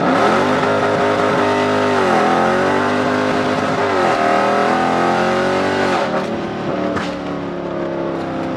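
A Dodge Challenger Scat Pack with the 392 V8 held against its 6,000 RPM rev limiter, a loud, close, strained engine howl that dips and surges in a repeated bouncing pattern before easing off.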